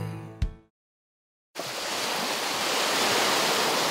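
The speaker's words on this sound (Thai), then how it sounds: "พี่แอมลองฟังเสียงคลื่นดูสิคะ" Sea waves wash onto a beach at night, a broad steady roar of surf rising after a short burst of sound and a moment of silence, then continuing alone and growing slightly fuller.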